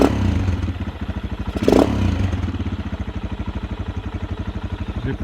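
A Honda XLR125R single-cylinder engine idles at about 1380 rpm, a steady rapid thumping putter close by with a short clatter near the start.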